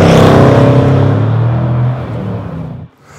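A 2019 Jaguar F-Pace SVR engine revs hard, its deep roar holding steady and then easing off, fading out near the end.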